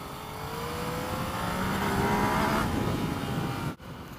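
A Yamaha MT-09 motorcycle leans through a corner. Its engine holds a steady drone with a slowly rising pitch under strong wind rush, then cuts off suddenly in a brief dip near the end.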